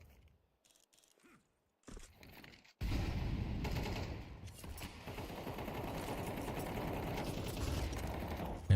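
Rapid gunfire from rifles and a pistol in a European Pro League esports match, as players run and shoot. After a quiet start it becomes a dense, continuous rattle of shots with mechanical clatter, loud and unbroken to the end.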